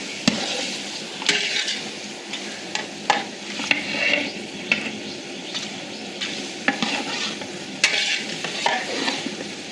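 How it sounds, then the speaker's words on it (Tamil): Five and a half kilos of mutton mixed into hot oil for biryani, giving repeated wet scraping and clanking stirs over a steady frying sizzle, close and busy with no voices. "அஞ்சரை கிலோ கறியை வந்து அந்த எண்ணெயோடு அப்படியே மிக்ஸ் பண்ணிடலாம்"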